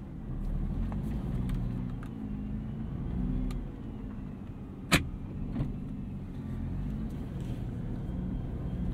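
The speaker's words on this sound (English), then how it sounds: "Lots of mechanical noise from this six-speed dual clutch transmission." A 2023 Nissan GT-R Premium with a six-speed dual clutch transmission idles and creeps with a low, steady mechanical rumble and hum, plus a single sharp clunk midway and faint clicks, heard from inside the car.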